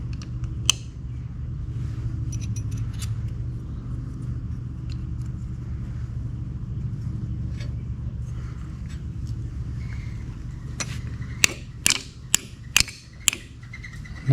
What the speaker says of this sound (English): I'm gonna take that bracket loose.